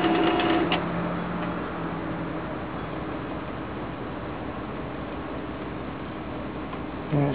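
A V540 unit powered through an inverter boots up and runs its self-test, giving a steady mechanical ticking and whirring under a faint hiss at moderate volume, with a brief louder burst at the very end.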